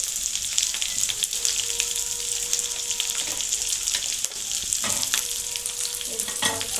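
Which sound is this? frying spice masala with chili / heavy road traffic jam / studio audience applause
frying spice masala with chili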